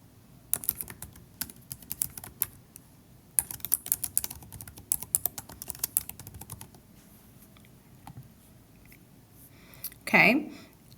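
Close, quick clicking of computer keyboard keys as a folder name is typed, bursts of uneven keystrokes for several seconds, then quieter, and a short voiced sound near the end.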